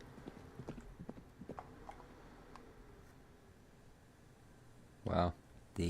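Hooves clip-clop at an easy walking pace on a horse in a frontier western survival video game, with several distinct taps close by. A louder, brief burst cuts in near the end.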